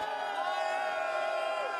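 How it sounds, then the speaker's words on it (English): An arena crowd at the Dota 2 International semifinals in Climate Pledge Arena, Seattle, roars in a steady, dense wash of cheering and chanting that fills the hall without a break. "And a lot of chants going on in the audience as well, Slacks."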